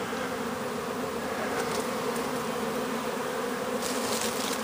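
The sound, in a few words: buzzing of a honeybee swarm in a low tree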